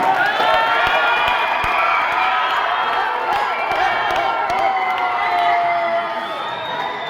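Loud crowd at a school science quiz applauding and cheering, dense clapping mixed with children's shouts and whoops filling the whole stretch at steady volume, with a voice talking over it.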